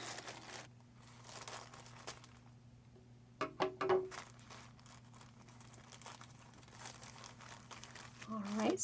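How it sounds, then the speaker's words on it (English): Plastic packaging from a felt craft kit crinkles and rustles as it is cut open with scissors, with bursts of close crunching amid quieter handling. "grab my scissors, and we will open that one up"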